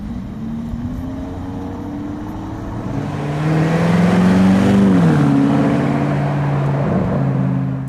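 A Lamborghini Urus Performante with a bold spec drives past, its engine note swelling louder midway and rising in pitch before easing off, with no voices over it.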